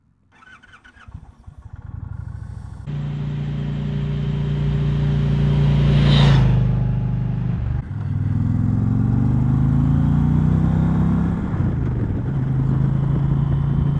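An Indian Challenger motorcycle riding on the South Mountain loop near Burkittsville, Maryland, its engine note starting low, building into a loud steady drone with rising and falling pitch through gear changes and a sharp swell midway.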